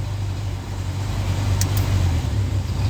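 Skoda Felicia 1.3 engine idling steadily at close range while the fuel system switches over to gas, a continuous low rumble with a brief faint click partway through.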